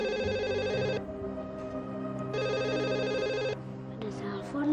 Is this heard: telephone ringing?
yes